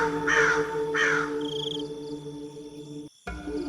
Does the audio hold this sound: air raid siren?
no